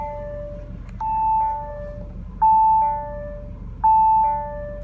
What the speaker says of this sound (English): Stop bonging so I can rev it up.